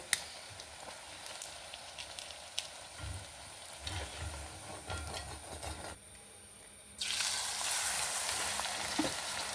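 Rice-flour puris deep-frying and puffing in hot oil give a steady crackling sizzle with small pops, briefly dropping quieter before a louder burst of frying.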